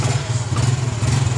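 A motorcycle engine runs in a short, fairly close burst, a steady pulsing putter with slight rises in intensity, without any voices.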